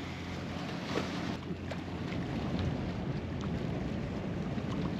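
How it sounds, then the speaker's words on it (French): Sailboat cruising under engine power near Dominica, with a steady low motor drone and broadband wind and water rush running continuously, fairly close and even, with no voices. "On a allumé les moteurs et puis on y va tranquillement."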